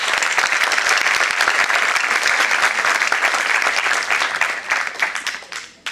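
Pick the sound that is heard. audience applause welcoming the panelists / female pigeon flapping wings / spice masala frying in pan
audience applause welcoming the panelists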